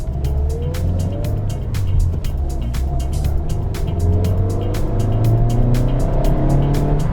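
A Mazda2 with its 115-horsepower 1.5 engine drives along, giving a steady, loud engine drone that slowly climbs with revs over constant road and tire noise heard from inside the car.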